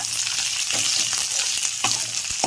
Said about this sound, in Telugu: తరుక్కున్న ఉల్లిపాయలు అన్నీ వేసుకొని కాస్త ఎర్రగా వేగేంత వరకు